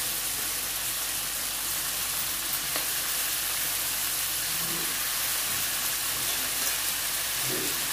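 Washed fenugreek leaves sizzle and hiss in a hot pan of potato and fenugreek curry, with steady loud frying noise and a few faint stirring scrapes, no voices.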